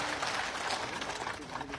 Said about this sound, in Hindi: जोरदार तालियां बजा करके आपका बहुत धन्यवाद